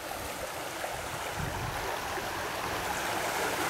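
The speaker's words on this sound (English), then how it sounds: "this creek is flowing very strongly" A creek swollen with melting snow rushes strongly and continuously, a broad, close, steady roar of flowing water with no voices.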